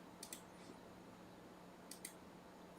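Typing on a computer keyboard in a quiet room: two short pairs of faint, quick key clicks separated by a pause, over low background hum.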